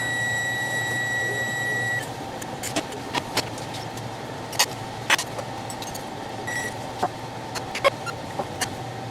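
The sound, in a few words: microwave oven beeping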